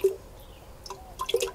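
Liquid EM solution dripping and trickling into a homemade potting soil mix, a few soft splashes and drips at close range, quiet, with no talking.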